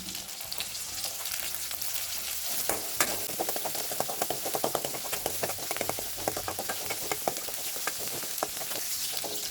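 Sliced onions and garlic sizzle in hot oil in a pan for a Nethili anchovy fish curry, a steady close crackle with occasional scraping stirs, no voices.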